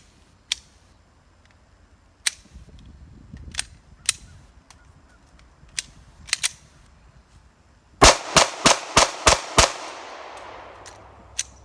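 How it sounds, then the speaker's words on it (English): Glock pistol firing rounds from a Magpul magazine at a range: scattered single shots early on, then a tight, loud string of six or so rapid shots near the end. "I want to run another 6 or so rounds through this Magpul mag"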